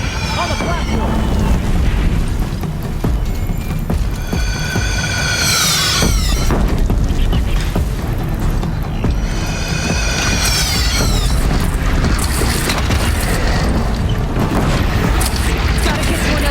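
Cannon fire in the Horizon Zero Dawn video game, heard as a continuous loud, rumbling barrage of deep booms under game music and battle noise, with shouting voices over it.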